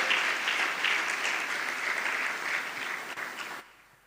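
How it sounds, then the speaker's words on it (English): Guests at a law school inaugural dinner give a round of applause. Steady, moderately loud clapping runs for about three and a half seconds and then cuts off abruptly into near silence. "A round of applause for him."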